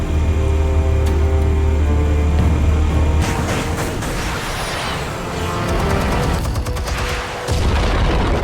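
Explosives detonate in the Batman video game Realm of Shadows: a deep rumbling boom rolls out and settles into a sustained low roar, with crackling debris and further blasts layered over an ongoing game soundtrack.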